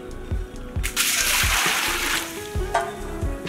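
Water splashes and sloshes into a bowl of flour and salt as murukku dough for Sattur karasev is prepared, with a steady pour in the middle and thumping handling at either end.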